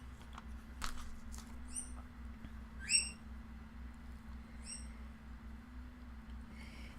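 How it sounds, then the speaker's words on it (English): A bird chirps in short bright bursts, a few separate calls spread out, fairly faint over a steady low hum in a quiet room. "You can hear my bird in the background."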